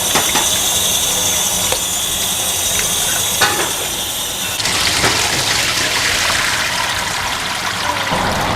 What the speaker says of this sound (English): I'm going to remove that now, strain them off